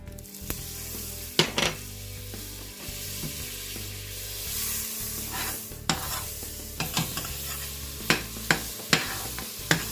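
Butter sizzles in olive oil in a casserole, a soft steady fry with scattered sharp clinks and scrapes of stirring against the pot; no talking.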